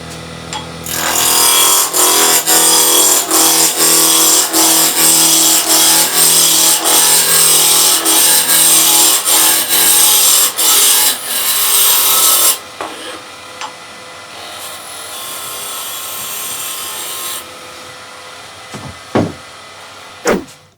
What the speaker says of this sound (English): So we just get this rough down with a spindle roughing gouge.